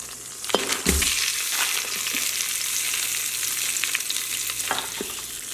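Traditional flavored vegan seitan drops into a hot pot with a brief clunk and is stirred, with a loud, steady sizzle running throughout and a few scraping knocks of the utensil.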